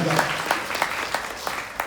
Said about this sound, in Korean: 박수 한번 쳐야 돼요.